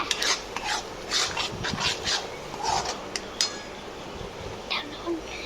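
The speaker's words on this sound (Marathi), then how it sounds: "परत ढवळा ढवळा" Onion and tomato paste being stirred in a pan with a spoon, making quick, close scraping strokes in an irregular rhythm over a faint background hiss.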